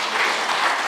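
A crowd at a ministerial transportation, agriculture and tourism event breaks into a brief burst of dense applause, a loud, even wash of clapping with no voices over it.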